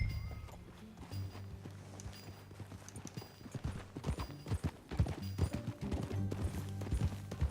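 Horse hooves clip-clop steadily on the ground in Red Dead Redemption 2 at a ranch, a close rhythmic walking gait with low music or ambience underneath and no speech.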